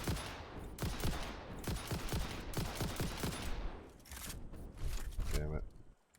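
Rapid bursts of automatic gunfire in the game Satisfactory, loud and close, repeating in quick rhythmic volleys over several seconds before cutting off, with a few game sound effects near the end.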